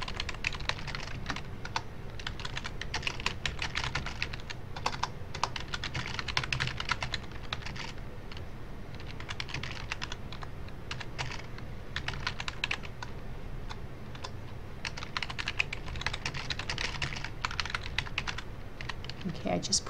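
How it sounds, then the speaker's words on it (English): Typing on a computer keyboard, a continuous quiet clatter of rapid key presses with a steady, uneven rhythm, close and alone throughout. "Under instructions, I am just going to type in here for right now."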